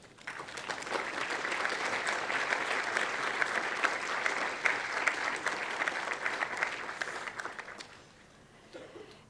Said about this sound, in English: Please, all of you in the audience, stand up and give them a round of applause